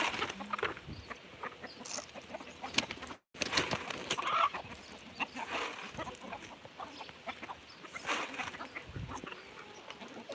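Farm fowl in rural South Dakota, ducks and chickens among them, cluck and quack in a busy, continuous outdoor chorus of close calls, with a brief gap partway through.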